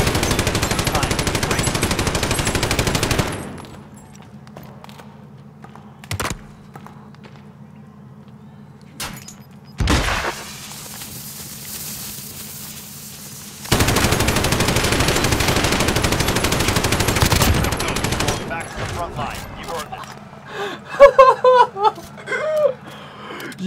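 A light machine gun fires in Call of Duty Warzone in two long, loud sustained bursts separated by a quieter stretch, with voices and chuckling afterward.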